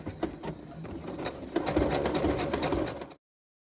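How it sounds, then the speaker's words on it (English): Sewing machine running a zigzag stitch around a jeans seam, a fast rhythmic mechanical chatter that builds and runs steadily for about three seconds before cutting off. "I'm gonna zigzag all the way around this seam"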